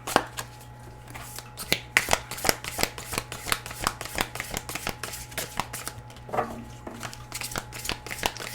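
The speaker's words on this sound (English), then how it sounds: "This deck is so massive, it's so hard to shuffle sometimes." A massive tarot deck being shuffled by hand, with a series of crisp riffling card snaps and flutters, close up and irregular, and a soft low hum underneath.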